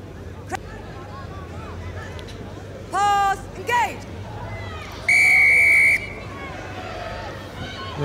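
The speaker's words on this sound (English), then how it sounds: "Blowing the whistle quickly for an early push by Wales in the scrummage" A referee's whistle at a women's rugby sevens match between England and Wales in Amsterdam, with two quick short blasts followed by a longer sustained blast, heard over crowd murmur and commentary.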